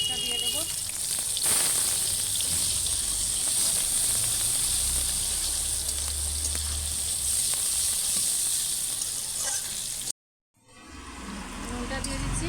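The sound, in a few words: onion frying, sizzling in the pan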